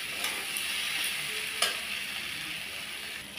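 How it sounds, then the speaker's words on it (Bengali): Prawns tossed into a pan of curry give off a steady broadband sizzle with a few soft stirring scrapes, moderately loud and close, no voices. "এইবার আমি এর মধ্যেই চিংড়ি মাছগুলো দিয়ে দেবো।"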